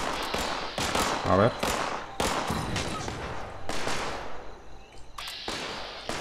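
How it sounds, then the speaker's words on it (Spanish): Gunfire in the video game Fallout 76, repeated loud bursts of shots and blasts coming in irregular volleys, with someone speaking briefly over them. "Aquí hay tiros."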